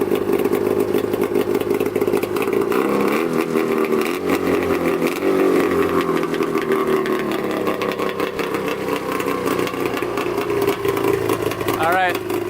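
A 110 HP custom Yamaha Banshee quad's two-stroke engine runs loud and close, idling with a rough rattle then rising and falling in revs, a steady raspy drone throughout.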